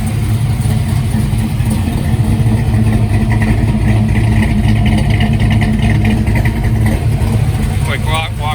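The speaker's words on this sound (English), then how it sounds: "You can hear it idles really well." Black Camaro engine idling right after a dyno session, a loud, steady low rumble close to the microphone, with a voice speaking over it near the end.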